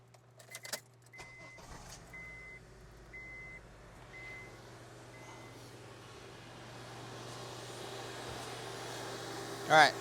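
A car engine idles steadily with its air conditioning running on maximum, a low continuous hum with a few clicks and repeating beeps at first and a louder burst near the end.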